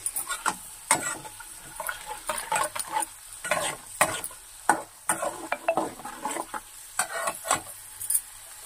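Chana dal stirred and fried in oil for tamarind pulihora, a soft crackle under repeated sharp utensil scrapes and taps against the pan in an uneven rhythm, with no voices.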